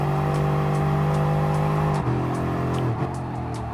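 A Ferrari race car engine in Gran Turismo Sport drones with a steady, tonal whine that shifts pitch midway, as though changing gear, and holds a constant, fairly loud level throughout.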